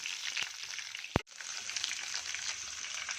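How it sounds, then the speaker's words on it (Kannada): Green chillies frying in a pan with cashew pieces, a steady broadband sizzle throughout with one brief sharp clack and a momentary drop near the middle; no voices. "ಎರಡು ಹಸಿಮೆಣಸಿನ್ಕಾಯಿ. ಇದೆಲ್ಲ ಸ್ವಲ್ಪ ಫ್ರೈ ಆಗಿ ಚೆನ್ನಾಗಿ."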